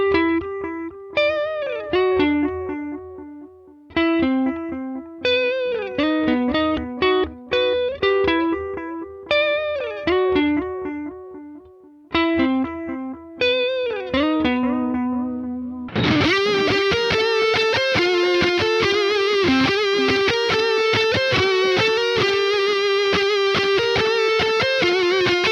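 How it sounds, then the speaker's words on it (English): Electric guitar played through an Xvive V21 Echoman analog delay pedal after Neural DSP plugins, picked melodic phrases trailing repeating echoes, then a loud sustained distorted chord passage with dense delay wash, no talk. "the V21 ECHOMAN is an amazing echo pedal"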